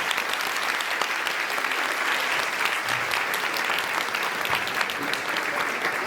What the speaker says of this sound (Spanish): pido un fuerte aplauso para la doctora